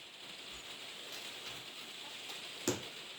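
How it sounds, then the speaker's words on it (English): Steady heavy rain hisses outside with some wind, a dense even wash of sound with a faint thud or two, no voices. "it's raining a lot"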